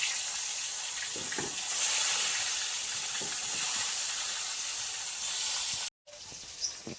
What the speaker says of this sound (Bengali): ওই তেলে এবার শোল মাছটা ভেজে নেব